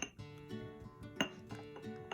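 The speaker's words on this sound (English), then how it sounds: "then just mix it up, make it nice and creamy" Hair dye being mixed in a bowl for home colouring, giving repeated light clinks and scrapes of a brush or utensil against the bowl, close and clear, with a sharper tap near the middle.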